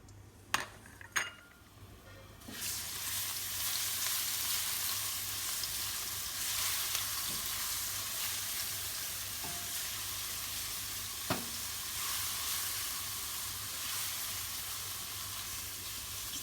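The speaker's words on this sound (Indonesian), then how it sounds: "Tumis bawang putih sampai harum dan matang." Garlic sautéing in margarine in a hot wok, a steady close sizzle that starts abruptly after a few metallic clinks of a utensil, with occasional taps of stirring over the continuous frying.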